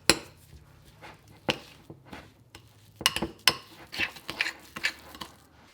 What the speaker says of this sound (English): Now we're just going to add in our coconut oil and we're going to give it a good mix